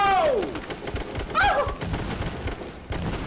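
Rapid bursts of video game gunfire crackle through a hectic shootout, dense and loud, with a brief tonal swoop early and another mid-clip amid the barrage.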